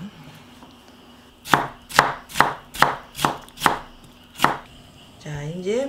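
Seven crisp knife strokes chop carrot on a cutting board in an even rhythm, close and distinct, before a brief voice enters at the end.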